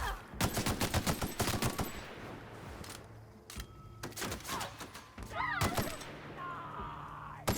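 Video game gunfire bursts in rapid, close strings of sharp shots, with heavy clusters early and scattered bursts later, over faint game effects and brief talk.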